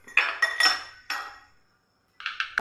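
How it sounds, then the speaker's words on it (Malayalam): Ice cubes drop into a glass while a grape and cucumber drink is being made, giving several bright clinks in quick succession, a pause, then another short cluster of clinks, close and clear with no talking. "ഇതിലേക്ക് നമുക്ക് ഐസ് ക്യൂബ് ഇട്ട് കൊടുക്കാം"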